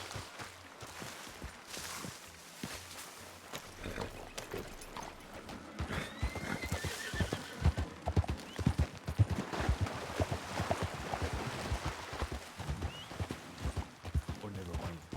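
An Arabian horse whinnies and its hooves clip-clop along in a steady walking rhythm, with a louder neigh midway, while voices talk over the movement.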